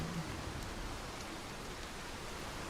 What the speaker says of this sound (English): you gotta get out of this rain